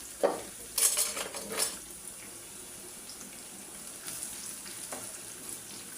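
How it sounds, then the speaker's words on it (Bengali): Onion and green chili dropped into a pan and lightly fried, a few sharp clattering stirs and bursts of sizzle early on, then a faint soft frying hiss with occasional scrapes. "দিলাম পেঁয়াজ, কাঁচামরিচ, পেঁয়াজ। এখন এটা একটু হালকা করে ভেজে নেব আমি।"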